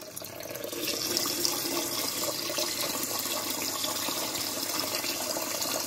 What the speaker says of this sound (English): I'm going to put some water on until the rice is covered